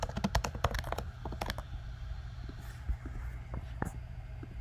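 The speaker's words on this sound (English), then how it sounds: "And let me type that out for you." A computer keyboard clatters in a fast burst of close keystrokes, then gives way to a few sparse, scattered taps, with a low murmured voice in the background.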